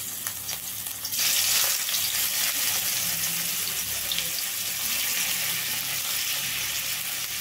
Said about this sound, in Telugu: నిదానంగా మీడియం ఫ్లేమ్లో పెట్టుకొని అయితే వేపుకోవాలి